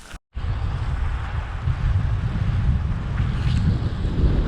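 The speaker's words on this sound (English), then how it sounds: "It's a bit windy this morning." Wind blowing on a windy seaside morning, a strong continuous low roar buffeting the microphone after a brief cut at the start, loud and unbroken, with no voices.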